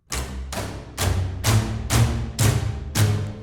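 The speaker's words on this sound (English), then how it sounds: "That's when you snap the string" Sampled bass Bartók pizzicato from the CineStrings CORE library, the string snapping against the fretboard: seven sharp, evenly spaced percussive plucks with deep low-end resonance, heard alone.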